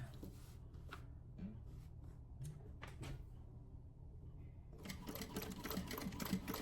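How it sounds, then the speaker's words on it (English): A sewing machine stitches a small fabric craft charm: several short, quick bursts of stitching with pauses, then a longer sustained run of close, rattling needle action. "we're only going to stitch a little bit, back stitch"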